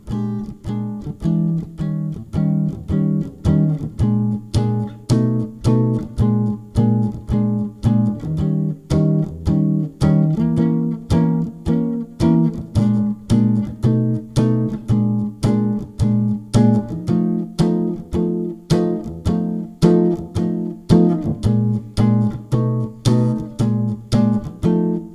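Solo jazz guitar strums steady, evenly spaced chords through a chord progression, clear and close with a regular beat and no voice over it.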